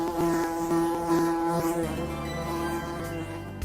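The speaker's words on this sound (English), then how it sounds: "Have you been hearing the buzz on bees and other pollinators?" Bee buzzing effect in a radio spot about bees and other pollinators: a steady droning hum with pulsing tones, fairly loud and continuous, alone with no voices.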